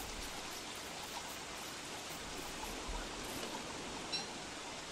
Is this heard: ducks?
no